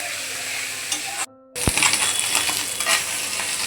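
Fish fries in an oiled pan with a steady close sizzle, which briefly cuts out, then a sharp metallic clink before the crackling frying resumes.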